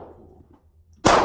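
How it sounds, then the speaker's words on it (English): A single sharp gunshot from a Smith & Wesson M&P 22 Compact pistol firing CCI Mini-Mag 36 grain .22 LR hollow points at a target about 5 yards away, loud and close after a brief quiet lead-in. ".Alright, we're going to be shooting the M&P 22 Compact."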